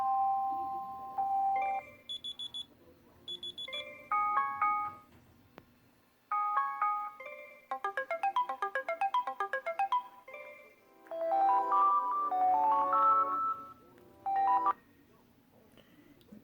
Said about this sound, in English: Now that's going to do me with the ringtones to the Orbic Journey V on Verizon.